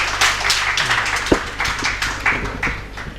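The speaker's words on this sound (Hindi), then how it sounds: "एक बार और तालियां बजा दें उनके लिए।" An awards ceremony audience claps and applauds steadily, a dense wash of hand claps with a few sharper individual claps standing out.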